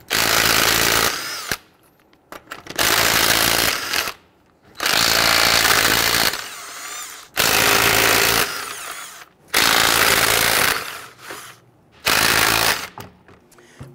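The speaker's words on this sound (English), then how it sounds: "Using a 22 millimeter socket, let's go ahead and loosen and remove our lug nuts." Loud impact wrench bursts loosening lug nuts with a 22 mm socket on a rear wheel of a 2008-2017 Buick Enclave, six long rattling hammering runs separated by short pauses, close and dominant.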